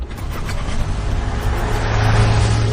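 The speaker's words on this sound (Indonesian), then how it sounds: "Mobil mau jalan." A car pulls away on a drive toward a remote area, its engine rumble building steadily with a low hum rising toward the end, close and continuous, with no talk over it.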